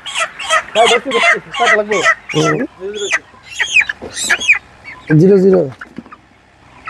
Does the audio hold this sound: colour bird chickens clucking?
yes